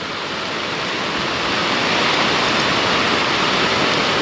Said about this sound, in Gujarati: બહુ વરસાદ પડે મિત્રો. ચાલુ થઈ ગયો છે.